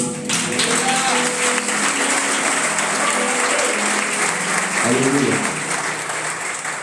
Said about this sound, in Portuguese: Você pode aplaudir ao Rei?